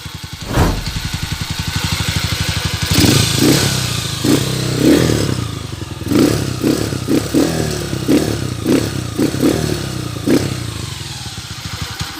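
A Rossi 175 motorcycle engine with a 200cc conversion idles close by, blipping the throttle in a series of short revs with a rattling, uneven rhythm.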